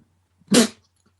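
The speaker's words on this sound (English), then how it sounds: "it was a suppressed cough is what it was, and it sort of came out as a sputter" A single short, muffled burst like a stifled cough sputtering out, brief and close, with near silence around it.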